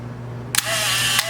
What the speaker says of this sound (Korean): 셔터를 눌러주시면은